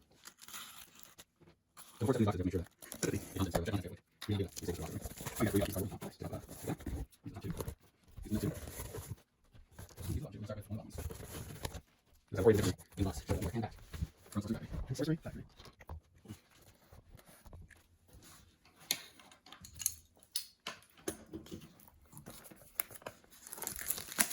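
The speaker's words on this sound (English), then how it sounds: "We're gonna cut this case open for you and show you what we got." A Sorcery Beta booster case is sliced open and its packaging torn and crinkled, with crackling, tearing and rustling bursts running throughout, mostly under steady nearby talk.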